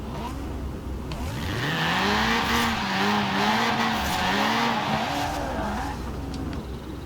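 A Ferrari in the racing game Forza Horizon 4 revs loudly with rising and falling engine pitch, its tyres squealing and skidding through a sustained slide, all heard up close with no talking.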